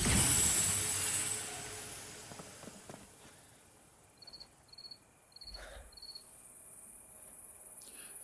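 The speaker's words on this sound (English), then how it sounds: "That's the sound of a cricket." Rhythmic cricket chirping in the video game Nightingale, a short series of evenly spaced bright pulses over a quiet ambient background, moderately near and fairly faint.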